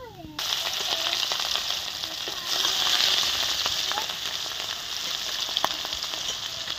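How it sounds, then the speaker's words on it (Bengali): Pieces of rohu fish sizzle in hot oil, a dense crackling hiss that swells partway through and carries on steadily with occasional sharp pops and no voices. "সব মাছ এরকম করে ভেজে নেব আমরা"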